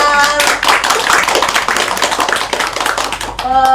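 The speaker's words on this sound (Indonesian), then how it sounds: "Kita kasih aplaus dulu untuk Iqbal" A small classroom audience claps for a student presenter during a microteaching session, a dense burst of applause lasting several seconds, with a voice speaking briefly at the end.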